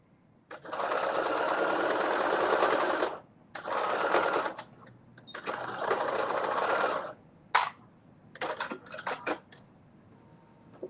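A sewing machine stitching a side seam, running in several bursts of steady rapid whirring, the longest about three seconds, followed by short clicks and taps, close and clear.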